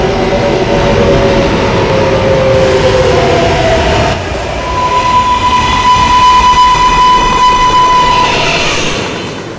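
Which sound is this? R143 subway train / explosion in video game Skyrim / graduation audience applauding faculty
R143 subway train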